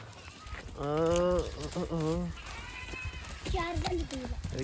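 Goats and young kids in a shepherd's pen, with several loud bleats close by in the first half and more calls later, heard among people talking.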